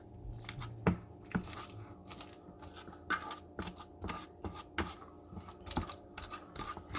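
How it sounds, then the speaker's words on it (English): A fork mashes avocado with chopped onion and garlic for guacamole, making repeated wet squishing and crunching strokes in an uneven rhythm, close up with no talking. "Then mash it with a fork."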